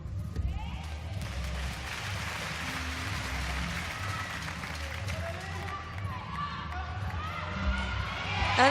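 A home crowd at a women's gymnastics final in Stuttgart roars and cheers after a gymnast's dismount, a dense continuous swell of voices that grows louder toward the end.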